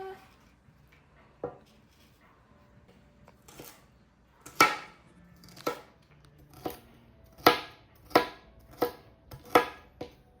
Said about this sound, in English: So we just cut them until they are finely chopped